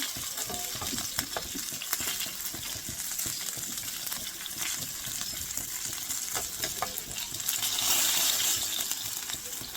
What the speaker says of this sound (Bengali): পাতা ভাজা কিন্তু প্রায় হয়ে গিয়েছে